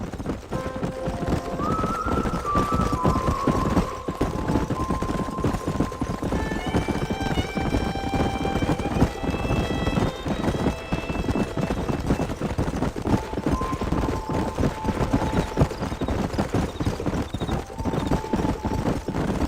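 Galloping horses drum continuously through the whole stretch while several neighs and whinnies rise above the hoofbeats in a Red Dead Redemption game scene, loud and close with a faint voice briefly underneath.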